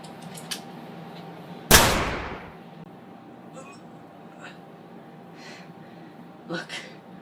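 A single sharp gunshot cracks out loudly and close, then trails off into quiet room tone, with brief speech before and after it in a staged dramatic scene.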